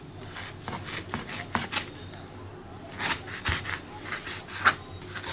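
A knife chops soaked, cleaned dried greens on a cutting board for a pork bun filling. The close, steady strikes come in a quick rhythm, with a few pauses, and no talking.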